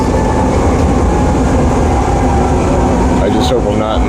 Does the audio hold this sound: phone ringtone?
no